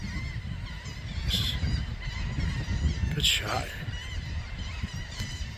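Birds calling outdoors at a beach in Villas, New Jersey, with a couple of honking, goose-like cries over wind and ambient noise, while a person speaks briefly.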